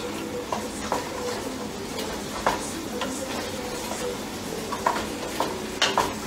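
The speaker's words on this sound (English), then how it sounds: "Alright, so I'm just going to stir those around." Soup ingredients being stirred around in oil in a pot for old-fashioned hamburger soup, with a steady soft sizzle under repeated scraping, clacking strokes of a utensil against the pot, close and moderately loud.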